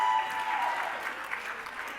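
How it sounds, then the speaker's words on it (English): A round of applause from attendees at a mental health conversation event, a brief burst of many hands clapping together, fairly close and loud, fading slightly toward the end. "Give yourselves a round of applause, everyone"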